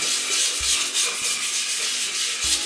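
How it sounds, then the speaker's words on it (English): A wooden bowl's edges are hand sanded with 120 grit sandpaper in quick back-and-forth swipes, a close, steady hissing rub with faint knocks underneath and no talk. "I'm going to use 120 grit, and I'm just going to give a few swipes like this"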